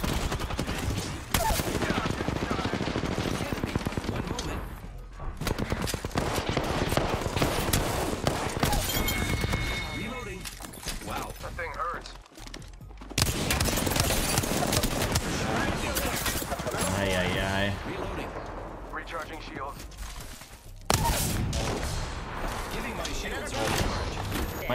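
Dense, sustained automatic gunfire and fusillades from an Apex Legends battle royale squad fight, loud bursts rolling almost continuously with brief lulls, a voice talking over the shooting.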